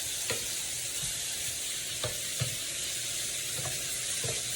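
Buffalo chicken wings frying in oil on a stovetop, giving a steady, close sizzle with occasional clinks and stirring taps throughout.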